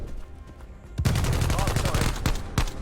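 AK74u fire in the video game Call of Duty: Cold War, a loud sustained automatic burst after a quiet start with a few separate shots, heard close and with some voice underneath.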